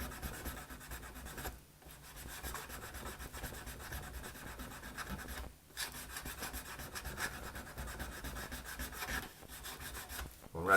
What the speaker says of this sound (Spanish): con una lija de 100 más o menos, que no sea fina